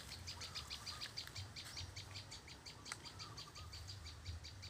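A wild bird, just released outdoors, gives a faint, quick series of high chirps that repeats steadily over a soft background hum, with no one speaking.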